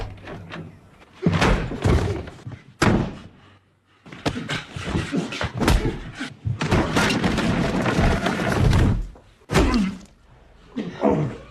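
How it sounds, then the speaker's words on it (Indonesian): Knocking on a house door comes as a few loud, solid thumps and slams, separated by pauses and mixed with other heavy, broad noises. "Cole pun dibangunkan oleh seseorang yang mengetuk pintu rumahnya"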